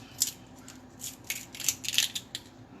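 Dry tamarind pods being cracked and their brittle shells peeled by hand, a run of quiet crisp snaps and crackles at an uneven pace, close up with no talking.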